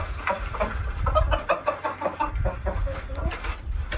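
Chickens in a dim coop cluck and murmur throughout, a busy cluster of short calls close by with steady low rumbling underneath.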